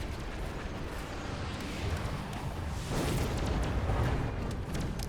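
Missile strike explosions in a strategy video game: a sustained, dense roar of blasts and booms at steady loudness, swelling slightly partway through.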